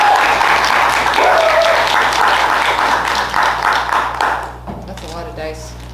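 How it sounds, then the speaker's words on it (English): An audience at a live tabletop game session at a gaming convention gives the players a round of applause, steady close clapping that fades out as a voice begins talking at the end. "A round of applause for our players."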